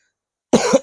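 A single short, sharp cough from a man with a cold, close and loud after a moment of silence.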